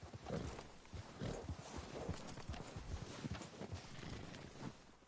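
Horse hooves clip-clop at a walking pace in the video game Red Dead Redemption II, close and fairly loud, over a constant wash of wind or ambient noise.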